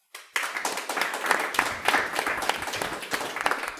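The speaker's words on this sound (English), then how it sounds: "I'm so glad you gave him a round of applause there" A round of applause from an audience at a community talk on knife crime, starting abruptly and continuing as a close, steady clatter of many clapping hands.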